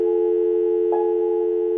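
A telephone line after it goes dead gives a steady, loud busy tone, a continuous hum with faint pulsing beneath it, unbroken and alone.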